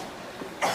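A single short cough from a person with a cold, close and fairly loud, with no talk.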